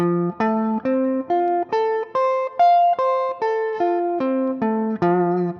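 A clean electric guitar plays a steady run of single picked notes, climbing and then descending in an even, repeating exercise pattern.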